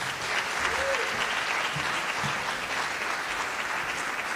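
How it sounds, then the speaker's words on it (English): Steady audience applause at a memorial celebration, a dense continuous patter of many hands at moderate level, with a few faint voices underneath. "A round of applause, tafadhali. Let's keep it going."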